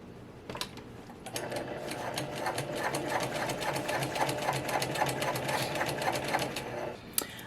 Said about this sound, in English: we are now going to baste the sides of these pockets so that they are secured